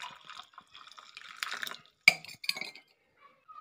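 Light clinks and trickling splashes of hot water poured into a mug, with a brief sharp ceramic tap midway; quiet and close.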